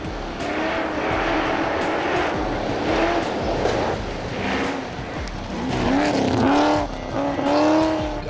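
A 40-year-old rally car racing in the Waimate 50 street race, engine revving hard through rising and falling gear changes as it passes close by and pulls away, loud throughout.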